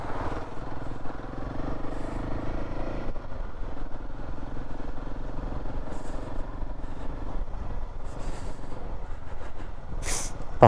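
Motorcycle riding along a mountain road near Kalpa in Himachal, a steady engine drone with road rumble and wind buffeting throughout, close and continuous with occasional clatter, no talking.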